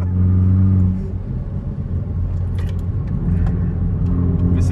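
Hyundai i30N hot hatch, 275 hp, with its engine idling and crackling close by, a strong low rumble that swells briefly and then settles into a steady burbling throb with sharp pops scattered through it.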